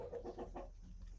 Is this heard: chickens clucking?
yes